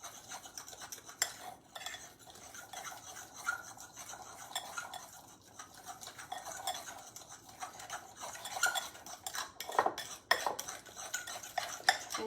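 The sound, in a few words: mixing Oreo chaffle batter with a fork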